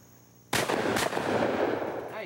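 A single loud shotgun blast at a sporting clays range, sharp onset followed by a long rumbling echo fading out, heard close with no talk.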